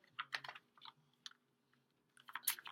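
Quick bursts of soft clicking and riffling as cards are shuffled, with crisp tapping of nails, in two clusters separated by a quiet pause.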